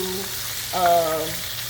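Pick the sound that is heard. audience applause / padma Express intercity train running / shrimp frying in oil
shrimp frying in oil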